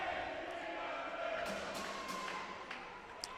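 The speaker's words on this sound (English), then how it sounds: "The crowd trying to make their own entertainment now with a few derogatory chants." A distant ice hockey crowd at a Newcastle Wildcats versus Northumbria Kings game chants during a stoppage in play, a faint, continuous wash of massed voices in a large arena with a few scattered claps and knocks.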